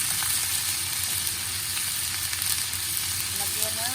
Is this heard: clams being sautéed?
yes